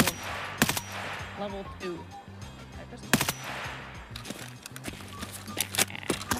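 Sharp, loud gunshots in a first-person shooter video game, fired as a few separate cracks spread across the stretch, with footsteps and someone talking in between.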